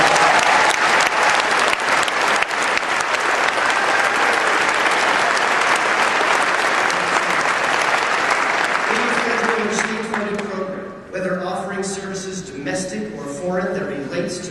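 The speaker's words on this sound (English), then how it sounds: "Let's give them a round of applause." A large audience in a lecture hall applauds servicemen and women in uniform, loud sustained clapping that thins out near the end as music-like tones and murmuring voices rise underneath.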